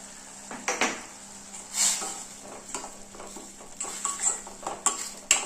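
Ginger and garlic with asafoetida and turmeric sautéing in a pan, with repeated clinks and scrapes of a ladle against metal over a faint sizzle, close by and without talk.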